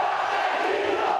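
Football supporters of Ceará celebrating a win in a stadium, a dense continuous roar of crowd noise with shouting voices, steady and loud throughout.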